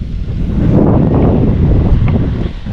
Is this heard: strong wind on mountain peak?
yes